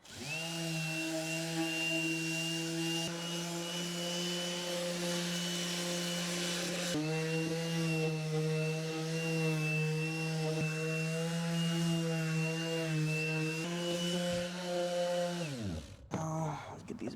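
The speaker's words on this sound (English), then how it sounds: "Let's get this sanded down, especially these edges." A power sander drones steadily and loudly at close range for a long stretch, sanding down edges while converting a car into a camper, then winds down abruptly near the end.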